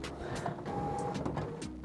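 An HP Officejet Pro 8610 inkjet printer prints a print quality report, giving off a steady, close mechanical whir with small clunks and a brief motor whine as the mechanism runs.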